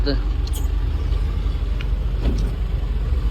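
A loaded goods vehicle drives along with a steady, loud engine rumble and road roar that stays constant throughout, with brief faint knocks over the drone.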